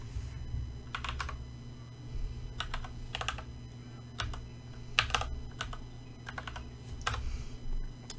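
Computer keyboard typing in irregular bursts of close, crisp keystrokes with short pauses between groups, entering a local IP address to connect a Casa node.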